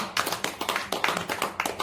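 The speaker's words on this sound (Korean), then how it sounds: "박수 한번 주세요" Scattered hand clapping from an audience at a Buddhist temple dharma talk, a few uneven bursts of claps with gaps between them, moderately close and fairly quiet.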